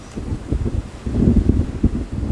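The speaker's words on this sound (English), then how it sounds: "It's so windy." Gusty wind roars into the microphone, a thick low rumble that swells and surges throughout the short stretch.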